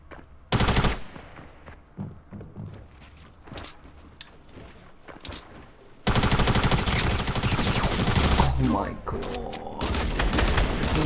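Rapid gunfire from dual pistols in the Fortnite battle royale video game, sparse shots at first and then a dense, loud sustained burst of shooting for the second half, with game effects and some speech mixed in.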